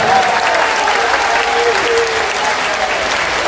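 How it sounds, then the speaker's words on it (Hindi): Loud, thunderous crowd applause at a large religious gathering, a dense continuous roar of clapping that stays at full strength throughout, with some voices beneath it. "जोरदार तालियों से 3 दिवस की चर्चा का स्वागत करिए आप सभी गड़गड़ाहट के साथ।"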